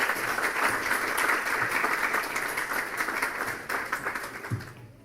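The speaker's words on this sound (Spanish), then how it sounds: "Invito primero un fuerte aplauso para él," A room of guests at a business breakfast applauds an economist with dense, even clapping that carries on steadily before tapering off and fading out at the end.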